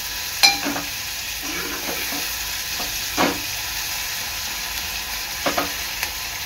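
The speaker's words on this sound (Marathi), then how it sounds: "कांदा तेलामध्ये चांगला लाल होईपर्यंत शिजवून घ्यायचा आहे" Onions frying in oil for a dried Bombay duck and potato curry, a steady soft sizzle with a few sharp spatula scrapes and stirring knocks against the pan, heard alone without talk.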